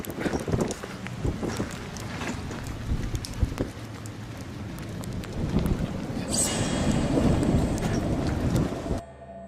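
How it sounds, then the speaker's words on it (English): A rainstorm with wind, a dense continuous rush and patter with rumbling low end and scattered sharp impacts, building louder near the end before cutting off abruptly. "it was raining at the time, so maybe the sounds were just the wind or the storm"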